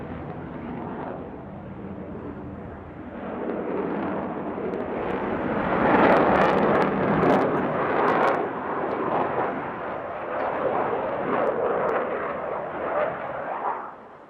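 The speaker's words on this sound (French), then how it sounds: "Post-combustion, on accélère et on rentre à la base." A Rafale fighter jet roars with afterburner as it accelerates at the Paris Air Show, a loud, broad rumbling blast that swells midway and holds steady to the end.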